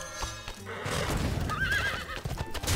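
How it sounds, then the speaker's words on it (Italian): A horse in the video game Hearthstone gives a loud, close neigh, a rising and falling whinny over trotting hoof clip-clops, with game music in the background. "Un altro cavallo."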